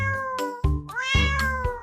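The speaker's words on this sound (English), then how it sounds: "Cat." A cat meows repeatedly, several drawn-out tonal mews with rising and falling pitch, close and clear with no other sounds.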